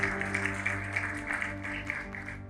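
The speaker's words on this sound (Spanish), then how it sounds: "Démosle un fuerte aplauso al Señor." Church applause rises over a sustained organ-like musical drone, a steady patter of clapping that continues throughout.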